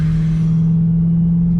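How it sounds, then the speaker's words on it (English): A Dodge Challenger Hellcat Redeye's supercharged engine holds a loud, steady low rumble close by, a constant droning tone sitting over deep engine throb with no voices. "that supercharger whine, I want to go to bed listening to that sound."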